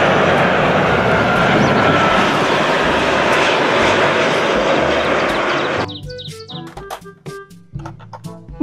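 Loud, steady roar of a passing fixed-wing airplane engine fills the first six seconds, then drops out abruptly, leaving brief chirpy electronic toy tones alone.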